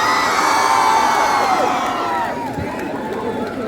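A large college crowd at a lively event with colored fireworks cheers and whoops loudly, a dense sustained roar of many voices that eases slightly toward the end.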